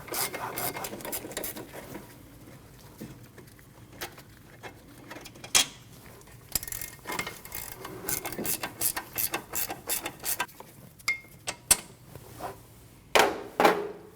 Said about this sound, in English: Once you remove those 2 bolts